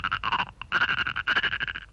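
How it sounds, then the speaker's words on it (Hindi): A cartoon frog croaks in quick rhythmic bursts, two short runs of rapid, bright, ratcheting croaks separated by a brief pause, heard alone and fairly close. "मेंढक की आवाज।"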